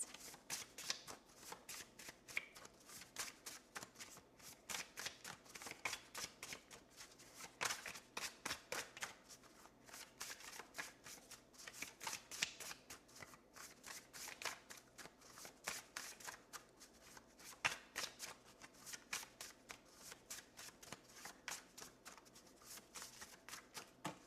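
A tarot card deck is shuffled over and over for about twenty-four seconds, with rapid riffling card bursts following a steady, dense rhythm, close up and fairly quiet, with no talking.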